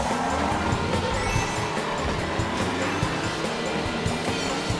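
Kart engine in Mario Kart on Nintendo Switch, a continuous buzzing motor drone with light rhythmic ticks and tire noise, steady and moderately loud throughout with no voices.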